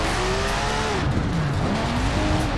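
Car drifting in Forza Horizon 4 driven with a steering wheel: a steady, loud engine drone with rising and falling pitch, overlaid by continuous tire squeal as the car slides, with no talking.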